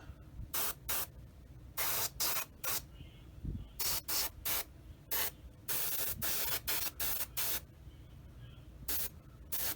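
Short airbrush bursts spraying weathering dust onto a Tamiya 1/35 Sd.Kfz. 250/3 Greif scale model half-track, a close series of hissing sprays of varying length, repeated steadily with brief pauses, nobody talking.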